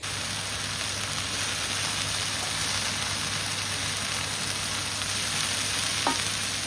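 Broccoli and potatoes frying in a pan, a steady close hiss and crackle that continues evenly, with a faint clink near the end.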